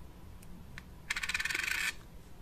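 A small 1992 10-kopeck coin is set on a weighing scale: a couple of faint ticks, then a close, bright metallic rattle as it settles, lasting under a second in a quiet room.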